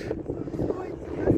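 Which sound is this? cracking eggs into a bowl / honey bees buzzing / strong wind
strong wind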